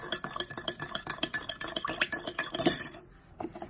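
Glycerin being mixed with a spoon in a bowl, with a fast, steady run of bright clinks as the spoon strikes the sides, close and fairly loud, ending in a brief scrape and then quiet.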